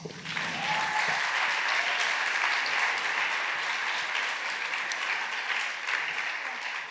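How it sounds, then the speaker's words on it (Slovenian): A concert audience at a Saint Nicholas concert gives a steady, dense round of applause, many hands clapping evenly throughout with faint voices beneath. "dajmo en aplavz"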